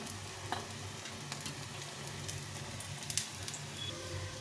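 Vegetable pakoras fry in a pan of oil with a soft, continuous sizzle and a few faint clicks and taps, fairly quiet and with no voices.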